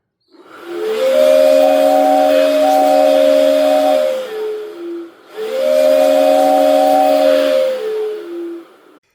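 Two long blasts of a breathy, multi-tone 3D-printed train whistle driven by a Makita blower, with a rushing blower hiss beneath, the pitch wavering slightly as each blast fades.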